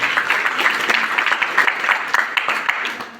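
Audience applause welcoming a special guest at a public event in Damoh, a dense, steady patter of many hands clapping throughout, fading slightly at the end.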